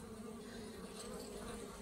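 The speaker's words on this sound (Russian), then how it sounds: "Пчелкам, конечно, это не нравится, они злятся." Angry honeybees buzz in a dense, continuous swarm as their hive is opened and treated against mites, a close, steady droning hum with no voices.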